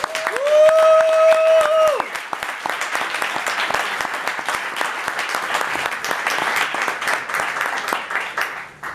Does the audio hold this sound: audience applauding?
yes